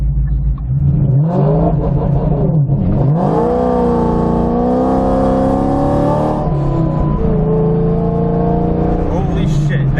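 A Shelby performance car making a launch-control start with its tires spinning: a loud engine roars and revs, rising and holding high with sustained wheelspin, close to the microphone, with a voice briefly heard over it.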